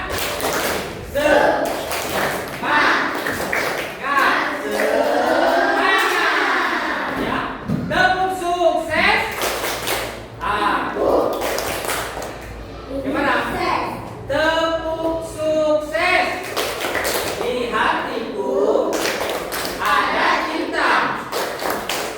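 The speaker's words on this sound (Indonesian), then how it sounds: "Sekarang mana tepuk semangat?" A group of children does a rhythmic spirit clap (tepuk semangat), loud thumping claps in repeated patterns mixed with chanting voices across about twenty seconds.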